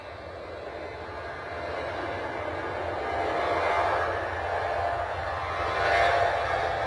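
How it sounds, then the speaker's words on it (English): Ryanair airliner rolling for takeoff at London Stansted, heard from a distance as a faint, broad jet roar that slowly swells and ebbs, with no speech over it. "Okay, Ryanair is rolling."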